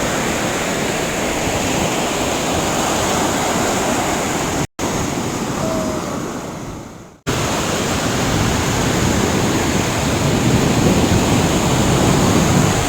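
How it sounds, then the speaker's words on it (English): Steady, loud roar of Pacific surf at Santa Monica pier with waves breaking continuously, a brief dropout partway through, no voices. "Some of these waves are pretty big."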